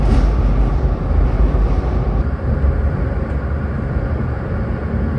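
Barcelona metro train pulling away and running, a steady loud rumble and rolling roar with continuous low-frequency mechanical noise, close and sustained throughout.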